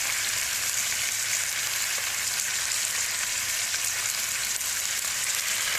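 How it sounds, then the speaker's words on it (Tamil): Soy sauce poured into a hot oiled pan, giving a steady, even sizzle and frying hiss that runs continuously and close, with no talking. "இப்போ வந்து நான் சோய் சாஸ் இருக்குது அதை ஊற்றிக்கிறேன்"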